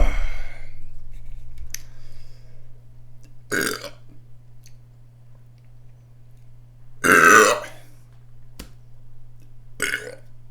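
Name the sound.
burping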